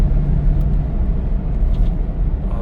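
A 2008 FJ Cruiser with newly replaced rear driveshaft U-joints driving along, a loud, steady low road rumble and engine hum close by with no voices.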